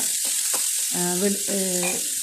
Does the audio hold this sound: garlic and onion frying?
yes